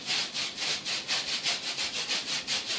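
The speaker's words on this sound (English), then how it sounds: "Just do a little hard scrub here." Hard scrubbing on a marble-pattern surface: a quick, steady run of about a dozen rasping back-and-forth strokes, close and fairly loud, with no voices.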